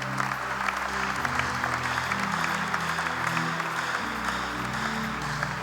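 A church congregation applauding, dense sustained clapping filling the room at steady volume throughout, with music playing underneath.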